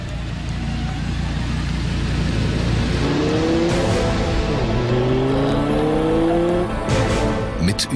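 An Audi R8 5.2 FSI Quattro on the move, captured by an array of more than ten microphones around the car, gives a steady engine drone with rising and falling tones as it accelerates and shifts, loud and close throughout.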